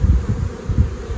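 Honeybees buzz around a queen cage in a hive, a close, low, wavering hum with a few pulsing swells over a little more than a second.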